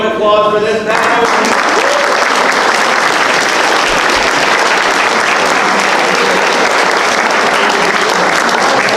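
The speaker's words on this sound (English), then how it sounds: "Please join me in an extra round of applause for this panel." A crowd at a panel discussion on women and diversity in the Ohio cannabis industry breaks into loud, sustained applause. A brief voice comes first, then thick, continuous clapping fills the rest.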